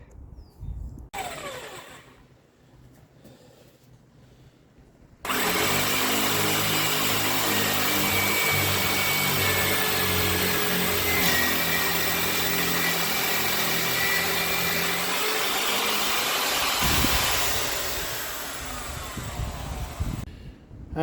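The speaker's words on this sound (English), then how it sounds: "try the drill directly down through there with that thickness of drill bit" Electric drill boring straight down through a wooden block, a sudden start into a loud, steady whirring motor drone that holds for about twelve seconds and then winds down, close up with no talking.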